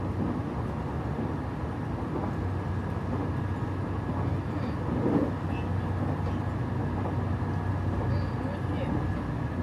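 The GRAN天空 sightseeing train bound for Koyasan rumbles along with a steady low hum and rolling noise inside the carriage, a continuous even drone with faint clicks and a slight swell midway.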